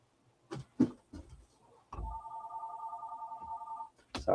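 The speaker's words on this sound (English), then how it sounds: "My phone's ringing." A phone rings with a steady electronic trill lasting about two seconds, heard close and clear after a few scattered knocks and handling sounds, followed by a brief rustle.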